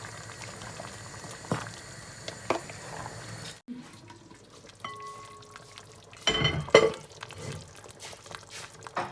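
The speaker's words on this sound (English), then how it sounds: "Then I'll leave it to simmer, to cook." A seafood and palm oil stew simmers in a pot, with close, busy bubbling and occasional louder pops and gurgles.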